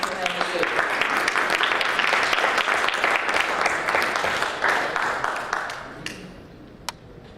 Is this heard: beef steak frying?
no